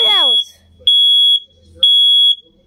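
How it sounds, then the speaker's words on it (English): A smoke detector under test gives two piercing, loud high-pitched beeps spaced about a second apart, following a brief burst of a person's speech at the start. "All smoke detectors go on."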